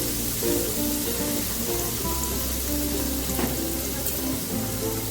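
Chopped garlic sizzles and fries steadily in hot oil in a pan, a continuous close crackling hiss with no talking.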